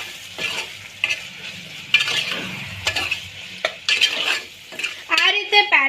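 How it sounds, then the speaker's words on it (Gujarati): A spoon stirs ivy gourd curry ingredients in a sizzling pan, giving loud, irregular metallic scrapes and clinks over a low fry, close by. "આપણે આ બધી જ સામગ્રીને ખૂબ સારી રીતે મિક્સ કરી લઈશું"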